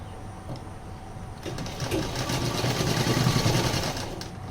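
A sewing machine stitches a silk blouse, its motor starting softly and building into a steady, rapid whir of stitching that eases near the end, with no talking.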